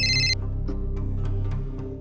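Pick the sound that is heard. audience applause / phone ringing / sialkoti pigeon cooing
phone ringing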